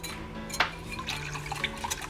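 Water poured from a cup into a bowl of batter ingredients with a milk and egg mix, giving a brief close splash and trickle over faint kitchen background hum, no talk.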